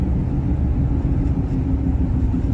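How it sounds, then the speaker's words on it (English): A 1960s Cadillac's V8 rumbles steadily from inside the car on narrow roads, a loud, deep and constant engine drone with no voices over it. "You hear the music of the V8"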